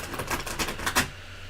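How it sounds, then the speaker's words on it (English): Tarot cards are shuffled in a quick burst of crisp, rapid clicks that end abruptly, leaving quiet room tone. "I keep shuffling cards"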